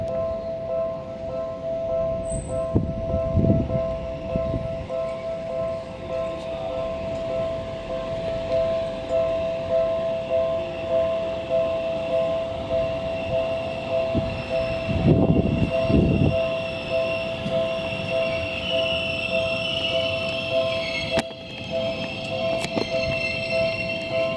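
A Seibu Shinjuku Line eight-car local train rumbles and hums steadily as it pulls into Kami-Igusa Station, Japan, with tonal whines, clanks, and brief louder passes, ambient station noise throughout.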